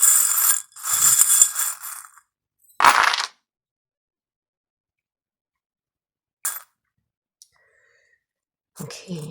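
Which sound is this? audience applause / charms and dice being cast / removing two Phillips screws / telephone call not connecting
charms and dice being cast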